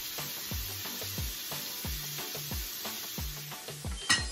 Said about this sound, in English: poured a little olive oil in it, made sure that it was well heated, and then I laid my shrimp in one by one in a single layer